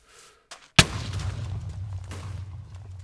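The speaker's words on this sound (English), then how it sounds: "No, TNT." A TNT explosion in a crafting video game: a single sharp, loud blast after a couple of faint knocks, followed by a low rumbling tail that slowly fades.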